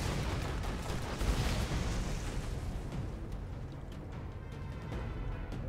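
Rocket turret in the Borderlands video game fires a dense, continuous barrage of booming blasts and explosions, loud and close, rumbling without a break throughout.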